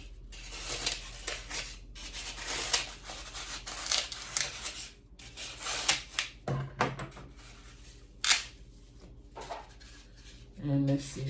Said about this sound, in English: So we're just going to cut some of that excess off the end there.